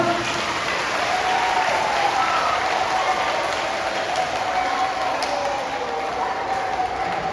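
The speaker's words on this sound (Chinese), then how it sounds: "再借由你的双手再来一次热烈的掌声" Steady, dense applause from a large audience at a children's musical staged by a Taipei elementary school, a continuous even wash of clapping lasting the whole stretch without pause.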